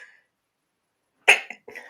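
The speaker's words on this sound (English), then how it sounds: "I'm going to sneeze," A single sharp human sneeze bursts out close and loud after a moment of silence, followed by a couple of brief breathy sounds.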